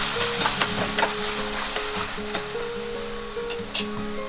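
Gobi Manchurian sauce with tomato ketchup sizzles in a hot pan while being stirred, with scraping strokes and crackling bursts at an uneven rhythm, close and moderately loud.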